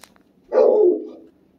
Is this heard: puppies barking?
yes